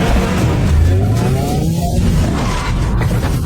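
Car engine revs hard as the car pulls away in a movie scene, a loud, continuous roar with rising pitch and a hint of tyre noise, filling the whole moment without speech.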